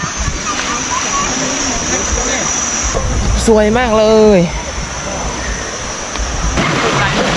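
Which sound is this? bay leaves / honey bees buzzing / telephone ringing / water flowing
water flowing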